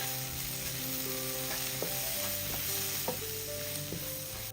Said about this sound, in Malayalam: ആ കടലമാവിൻ്റെ ആ പച്ച മണമൊക്കെ ഒന്ന് മാറി കിട്ടുന്നത് വരെ ഒന്ന് ഇളക്കി കൊടുക്കും